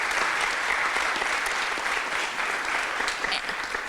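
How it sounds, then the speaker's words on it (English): A conference audience applauds a panel steadily and evenly, a dense wash of clapping from many hands, moderately loud, with no voices over it. "I'm going to give you a round of applause for Tennis Wick."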